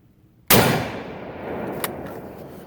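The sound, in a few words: Mauser Enfield rifle test fire at Knob Creek range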